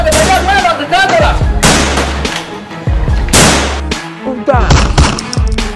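Gunfire in a dramatic film scene: several loud sharp bursts land in quick succession over about six seconds, mixed with shouting voices and other action noise.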